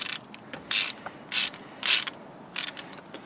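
A ratchet wrench turns a 13 mm bolt on a Porsche 928 belt tensioner, quick bursts of crisp pawl clicking in short strokes with brief pauses between, close and clear.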